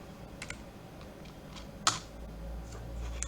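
Typing on a computer keyboard while writing Python code, a few soft scattered keystrokes with one sharper click near the middle, close and fairly quiet, no talking.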